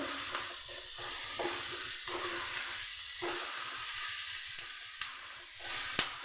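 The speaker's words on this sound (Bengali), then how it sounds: "দিয়ে দিচ্ছি জিরে ধনের গুঁড়ো সমস্ত কিছু একটু ভেজে নিচ্ছি" Cumin and coriander powder with turmeric and ginger-garlic paste fry in oil for a tangra fish curry masala, giving a steady, close hiss of sizzling under occasional scraping strokes of a stirring spoon.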